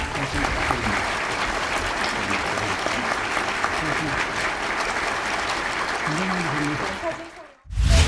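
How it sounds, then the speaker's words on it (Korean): Audience applause at a ministerial event, loud and dense, sustained for several seconds with a voice coming through over the clapping before the sound cuts off and briefly resumes. "큰 박수로 모시겠습니다."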